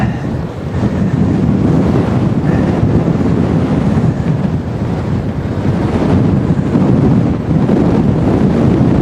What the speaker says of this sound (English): Still get some good gusts ripping through that.